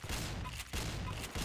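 Shotgun blasts in a video game, a burst of loud booming shots in quick succession with no talking.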